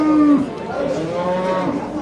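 Bulls at the Tokmok livestock market give a loud, close, drawn-out moo that fills the short moment, with no talk over it.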